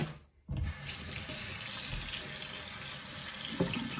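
Running tap water pours steadily into a sink while frozen bitter gourd is rinsed, a close continuous splashing hiss after a brief quiet start.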